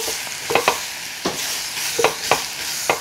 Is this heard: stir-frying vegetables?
yes